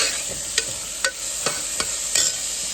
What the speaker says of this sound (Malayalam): എന്നിട്ട് നന്നായിട്ട് ഇളക്കി കൊടുക്കാം